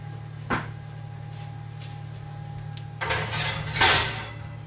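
An oven door opened in a home kitchen, a brief clunk followed a few seconds later by a louder rattling clatter, over a steady low appliance hum.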